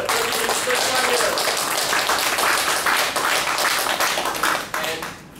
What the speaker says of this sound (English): let's give ourselves a round of applause again